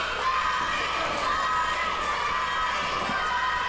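A wrestling crowd cheers and shouts continuously at an independent Southern wrestling show, a dense, loud wash of voices with no single caller standing out.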